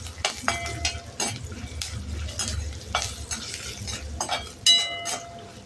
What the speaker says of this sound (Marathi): शेंगदाणे छान परतून घेऊ आपण.